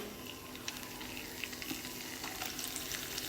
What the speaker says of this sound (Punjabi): ਇਹਨਾਂ ਨੂੰ ਚੰਗੀ ਤਰ੍ਹਾਂ ਨਾਲ ਕਰਾਂਗੇ ਫਰਾਈ ਡੀਪ ਫਰਾਈ ਕਰਨਾ ਇਹਨਾਂ ਨੂੰ